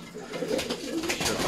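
Armenian pigeons coo close by in a short, continuous burst of throaty calls, with a faint rustle of other activity in the background.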